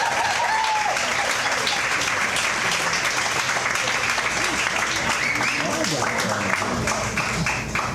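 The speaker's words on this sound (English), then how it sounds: "Can we have one more round of applause?" Loud, continuous audience applause after a poetry reading at a poets' event, dense clapping filling the room with cheers and voices mixed in throughout.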